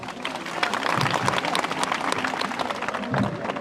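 A rally crowd claps steadily in dense, continuous applause that holds at an even level throughout, with no voice rising above it.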